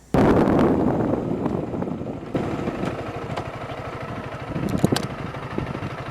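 A Honda CRF300L motorcycle rides down a road, its engine droning steadily and close, with heavy wind buffeting over the microphone and small surges in revving throughout.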